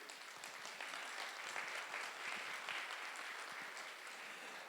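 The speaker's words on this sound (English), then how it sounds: "Let's give them a round of applause." Audience at an education prize summit gives a round of applause, a steady dense patter of many hands that holds at an even level from start to finish.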